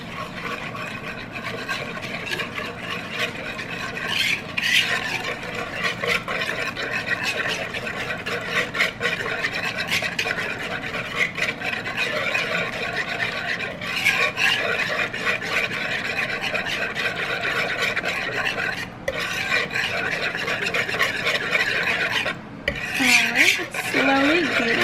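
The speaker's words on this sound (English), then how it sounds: "now we're going to whisk it until it becomes like a pudding texture" A whisk beats milk into pudding mix in a bowl for a no-bake banana cream pie filling, with a continuous rhythmic scraping and rubbing against the bowl, close and steady, with occasional brief talk.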